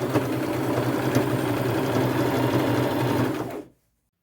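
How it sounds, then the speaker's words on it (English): A sewing machine runs a small straight stitch, sewing lace onto blazer fabric in one steady, continuous whir that stops abruptly near the end. "Okay, so I'm using a fairly small straight stitch on this, and I just have my edge lined up with my presser foot right here."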